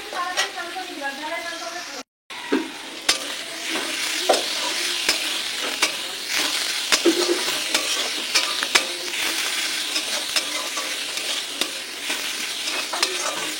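Potatoes fry in a pan and are stirred repeatedly with a utensil. Steady sizzling runs throughout under frequent sharp clicks and scrapes, close and fairly loud, with a brief gap near the start.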